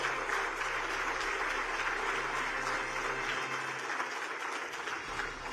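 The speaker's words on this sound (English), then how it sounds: "Those of you who enjoyed this session, can we hear it in your applause?" A conference audience at the Tamil Nadu Global Investors Meet 2024 applauds as a session ends, sustained, even clapping from a large hall that holds steady throughout with no voices on top.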